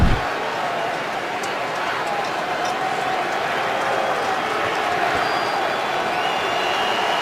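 Dense football crowd roar at Giants Stadium during a Dallas Cowboys at New York Giants game, sustained and loud for the whole stretch with scattered shouts and occasional sharp accents rising out of it.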